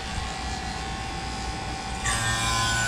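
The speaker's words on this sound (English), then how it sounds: "let me go ahead and start my pump here" An AC vacuum pump runs during a compressor replacement on a 2013 Toyota Corolla, giving a steady close buzzing hum that steps up louder and brighter about two-thirds of the way through.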